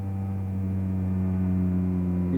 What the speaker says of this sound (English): You hear the engine turning.